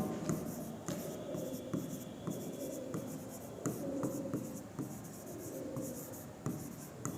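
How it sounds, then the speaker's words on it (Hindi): Pen writing out a definition by hand, likely on paper or a board, with steady scratchy strokes and small taps running continuously, fairly close and moderately quiet, no talking. "इसका डिफिनीशन लिखते हैं"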